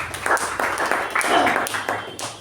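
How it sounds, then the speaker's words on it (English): Round of applause at a Toastmasters club meeting: a room of people clapping in a steady, moderately loud patter over a couple of seconds, with some voices and murmur underneath. "A round of applause to Toastmasters."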